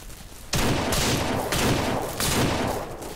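Gunshots while hunting in the video game Ranch Simulator: several loud, close blasts in quick succession, each followed by a long booming decay.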